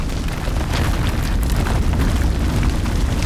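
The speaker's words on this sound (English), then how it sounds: "Explosions!" Loud, continuous explosion rumble from the video game House of Ashes, heavy booming low end with crackling debris layered on top, sustained without a break across the whole stretch.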